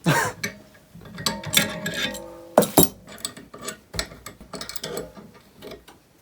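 A ratchet clicks in short bursts while tightening a brake part on a BMW E30 fitted with E36 328i brakes, with metallic clinks and clatters between the turns.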